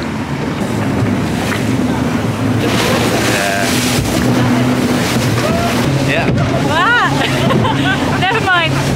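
A motorboat engine drones steadily beneath rushing water and wind on a speedboat ride to Cabo San Juan, Tayrona National Park, with voices talking and a few high whistling tones near the end.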